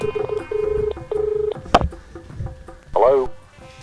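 Telephone dialing tones for an outgoing call ring out as a quick series of steady beeps, then a short burst of other phone-line sounds, and a voice briefly comes in near the end.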